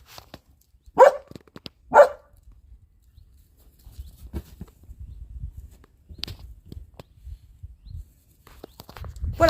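A few dogs bark, two sharp loud barks close by, then scattered softer barks, shuffling and movement over the rest.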